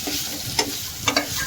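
Tomatoes frying in a pan for a home-cooked chicken dish, a steady close sizzle broken by a few sharp scrapes and clinks as a spoon stirs them.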